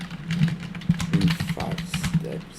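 Someone types a prompt on a computer keyboard, a burst of quick, close key clicks in an uneven rhythm, with a voice talking quietly underneath.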